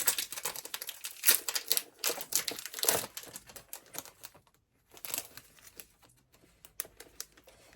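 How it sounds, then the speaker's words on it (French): Crinkling and rustling of a sheet of stickers from Action being handled for paper crafting, a dense run of close papery crackles and taps with a brief pause midway. "on va utiliser cette planche-là de stickers de chez Action"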